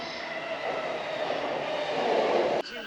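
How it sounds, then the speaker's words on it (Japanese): A passing Keihin-Tohoku Line commuter train at Akabane Station, its rumble and rising roar with a tonal hum building as it approaches, then a sudden cut. "赤羽駅からは京浜東北線南港に乗車。"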